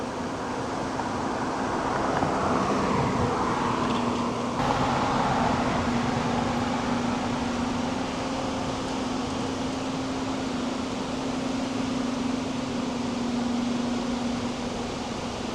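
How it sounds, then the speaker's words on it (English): Steady traffic on a busy main road beside a canal lock, a constant broad roar of passing vehicles with a low hum underneath, continuous and fairly loud throughout without voices. "lock 7, unfortunately, is right by a busy main road, so you will hear a lot of traffic going past me"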